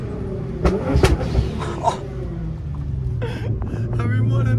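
A 700hp Nissan GTR in Godzilla mode rumbles and revs, with loud sharp pops and bangs early on, then a deep engine drone building toward the end, under an excited voice.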